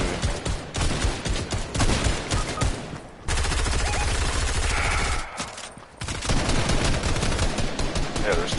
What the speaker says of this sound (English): I got 4 fucking people shooting me.